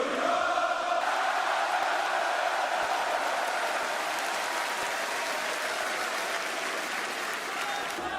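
A packed wrestling arena crowd cheers and roars continuously, a loud dense wall of applause and shouting that stays steady throughout, with faint chanting or singing woven into the din.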